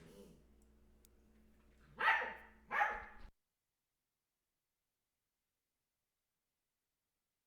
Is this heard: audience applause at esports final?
no